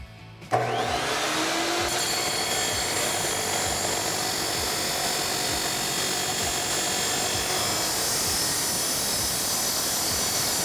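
A power tool cuts through the steel exhaust pipe of an MBRP single turn-down exhaust for a 2016-2020 Toyota Tacoma. It starts after a short pause and runs as one steady, loud, unbroken grinding whine close by.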